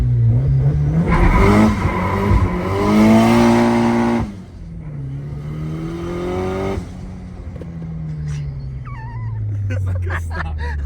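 A Nissan S15 with a stock SR engine revs hard on a dyno, its loud engine note climbing and falling through repeated pulls as a voice speaks.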